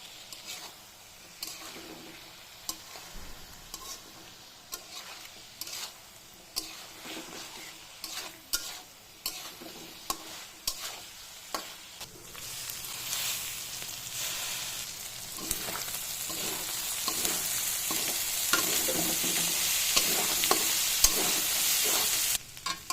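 Marinated chicken for restaurant-style chicken chaap fries in hot oil in a wok, with frequent scraping stir strokes over a sizzle that grows steadily louder and denser in the second half; no one speaks.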